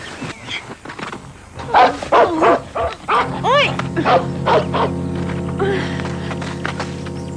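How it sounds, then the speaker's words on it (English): A small dog barks and yips several times in quick bursts close by, followed by a lower sustained tone and faint whimpering. "There's a little doggy coming."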